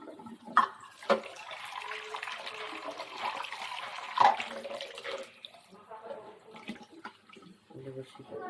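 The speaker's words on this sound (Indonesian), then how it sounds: "Kita cuci dulu air minumnya." Running tap water while a cat's drinking bowl is rinsed, a continuous splashing flow broken by a few sharp knocks of the bowl, with a voice speaking at times.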